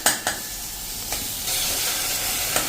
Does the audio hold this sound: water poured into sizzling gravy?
yes